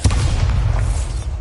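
Bombarda spell explosion in Hogwarts Legacy, one loud, close, deep boom with a heavy low rumble that lingers through the whole short moment.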